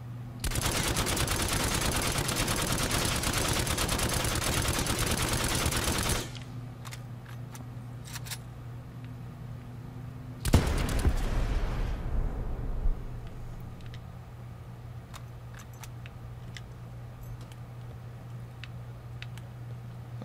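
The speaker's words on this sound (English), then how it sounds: "Why am I doing this with an unsilenced weapon?" Unsilenced weapon firing a rapid, dense burst of gunfire in the Blackout battle royale video game, sustained for several seconds, then a shorter second burst after a pause, with low game ambience underneath.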